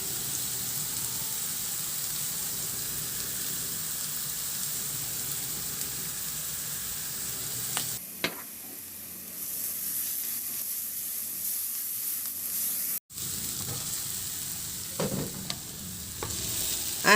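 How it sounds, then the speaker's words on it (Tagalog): Onions sautéing and being stirred in a pan, with a steady sizzle throughout and occasional scraping clinks of a utensil, pausing briefly partway before the frying resumes. "ihalo lang din hanggang sa maluto lang din yung sibuyas"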